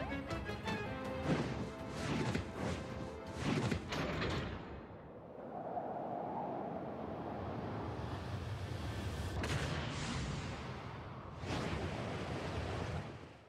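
An airship's main cannon in Paper Mario: The Origami King blasts through a ceiling inside Bowser's castle: a loud crashing barrage, a rushing rumble, then more heavy bursts and a fading roar.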